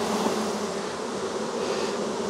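A small sweat bee buzzes close by near a beekeeper's hive cage outdoors, a steady, loud, continuous drone with no talking.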